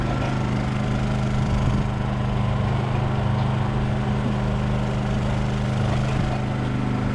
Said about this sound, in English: luckily we have redundancy with a backup Honda generator, and had to run it for some hours